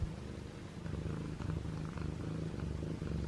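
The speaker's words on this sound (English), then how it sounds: "He purrs so loud. Both of these cats purr so loud." A cat purrs close up, a steady, rhythmic low rumble that continues evenly without pause.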